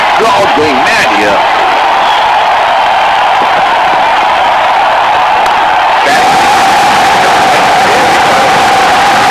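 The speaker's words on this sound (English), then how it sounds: "Crowd going mad here." Simulated crowd in a cricket video game, a Pakistan versus India one-day match, roars and cheers loudly and continuously beneath steady commentary talk.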